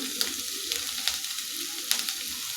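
Onion sautéing in a pan alongside garlic cloves and ginger, a steady close sizzle broken by occasional stirring scrapes, with no one speaking.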